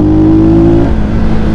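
A Rusi Flash 150X fuel-injected motorcycle exhaust pipe revs loudly on a ride, a sustained high engine note that holds briefly and then drops back to a rough, throaty drone.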